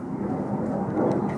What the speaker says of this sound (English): See the airplane.